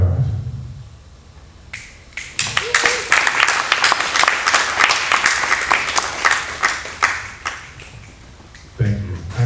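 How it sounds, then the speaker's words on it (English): Audience clapping at a poetry performance at Under 1 Roof: applause swells quickly from quiet, holds dense and loud for several seconds, then thins out, with talking heard at the start and near the end. "I heard a preemptive clapping"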